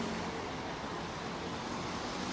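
Steady road traffic on a Kuala Lumpur street in the Bukit Bintang area in the morning, a bus among the passing vehicles, heard as a constant broadband wash of engine and tyre noise with no clear single pass.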